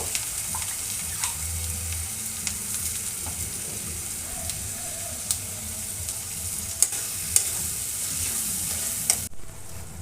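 Tomato paste stirred into a crab dish in a pan gives a steady sizzle with scraping stir strokes and occasional clinks, close and alone over ten seconds.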